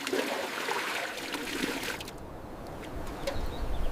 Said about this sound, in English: Villagers draw water from the restored source.